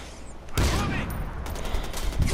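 Gunfire in Far Cry 4 trick-shot play: a loud broadband burst of shots begins and sustains briefly, followed by a few scattered further shots over steady game ambience.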